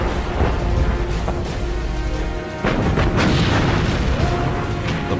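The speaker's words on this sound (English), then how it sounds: "Bismarck fires again. The German gunners zero in with deadly efficiency." Main guns of the German battleship Bismarck firing in 1941: heavy, rumbling booms with a thick low roar, and a sharp new blast about halfway through over continuous loud battle noise.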